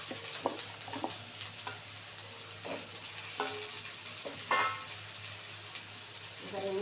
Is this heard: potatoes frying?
yes